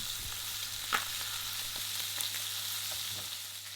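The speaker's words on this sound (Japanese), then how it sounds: "ここで下処理した時に出た首づるの部分のコンカッセも入れて一緒に焼きます。" A whole chicken, with chopped neck pieces alongside, sears in a frying pan, making a steady close sizzle and crackle with an occasional soft pop or utensil tap, and no voices.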